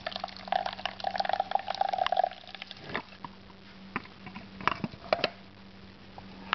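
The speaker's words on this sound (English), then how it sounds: "I'm going to take the lid off and carefully walk it over to my sink, where I'm going to drain the berries or the seeds out of the juice" Prickly pear juice draining through a strainer at a kitchen sink, with soft trickling and patter plus occasional light clinks and handling noises, fairly quiet and close.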